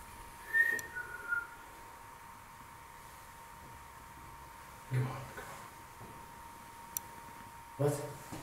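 A person whistles short, sharp calls in separate bursts with pauses between, over a faint steady hum and quiet background voices.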